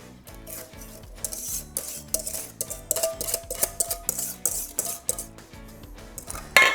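Egg mixture being poured and stirred back into a saucepan while making pie filling, with rhythmic scraping and clinking of a utensil against the metal pan, close and repeated in short strokes.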